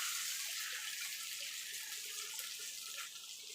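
Water runs steadily from a kitchen tap while a bowl is rinsed, a continuous bright hiss with faint splashes, heard alone without any voices.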